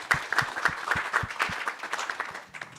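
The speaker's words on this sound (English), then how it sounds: "Just give a round of applause for our panelists," Conference audience at the Absa Africa Financial Markets Index 2024 launch applauds the panelists, with a few distinct close handclaps in an uneven rhythm over a thin spread of clapping.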